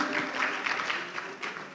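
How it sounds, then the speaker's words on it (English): Audience at an international e-learning conference applauds a pro-vice chancellor, a short burst of many hands clapping in a hall, close and steady. "A round of applause, ladies and gentlemen."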